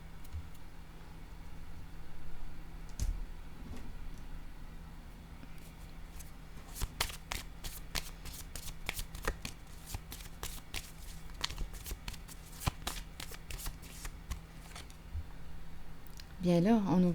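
Tarot cards are shuffled by hand, a run of quick crisp riffling snaps and soft slaps over a quiet room, with a brief faint voice at the very end.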